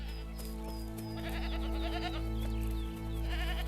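Several goats and sheep bleat in overlapping calls over a steady low engine-like drone, the bleats wavering and repeating close by.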